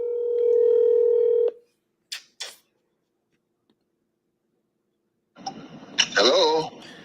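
A telephone dial tone hums steadily for a moment and then cuts off, followed by a couple of short clicks, silence, and then a voice coming over the line.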